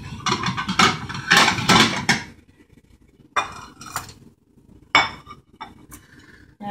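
Plate and knife clinking while chocolate cake is served in a home kitchen, a cluster of ceramic and metal clatters at first, then a few separate sharp clinks with quiet gaps, close and fairly loud, no talking.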